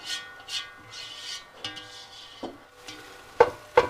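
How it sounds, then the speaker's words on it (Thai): Pad see ew noodles stir-fried in a pan over high heat, soft sizzling and scraping strokes of a spatula coming in short irregular bursts, with a few sharper metallic clinks near the end. "ผัดซีอิ๊วซิลินจะใช้ไฟแรงนะคะ เพราะอยากได้ความเกรียมของเส้น"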